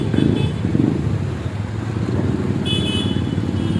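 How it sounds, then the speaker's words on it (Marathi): Mumbai street traffic rumbles close by, with motorcycles and cars passing continuously and a brief horn sounding near the end. "मुंबईचं ट्रॅफिक"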